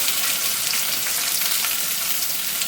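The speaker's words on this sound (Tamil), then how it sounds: "வெங்காயம், பச்சை மிளகா, பட்டை, லவங்கம், அப்புறம் பிரிஞ்சி இலை எல்லாம் போட்டு நல்லா இதை வதக்கிக்கலாம்" Onions, green chilli, cinnamon, cloves and bay leaf sauté in hot oil in a pan for vada curry, a steady, close sizzle and crackle running without pause.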